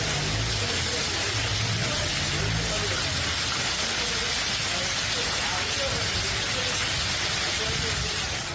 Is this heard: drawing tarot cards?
no